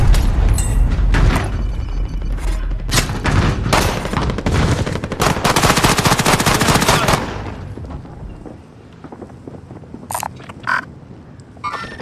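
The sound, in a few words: gunshots in video game Call of Duty: Warzone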